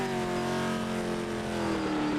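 A GT race car in the Project Motor Racing video game holds a loud, sustained engine drone with a slightly falling pitch, steady and continuous throughout.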